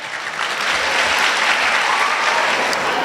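A crowd of college students claps at a wellness event, a dense, even wash of applause that swells slightly and stays loud for about three seconds.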